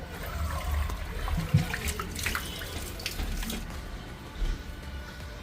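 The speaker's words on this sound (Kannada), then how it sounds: "ನೀರು ಆಟೋಮೆಟಿಕಾಗಿ ಫುಲ್ ಎಲ್ಲ ಡ್ರೈನ್ ಆಗಿಬಿಡುತ್ತೆ" Water from a Hotstarr portable washing machine draining out through its pipe, a soft steady trickle and gurgle close by with a few faint splashes, no voices.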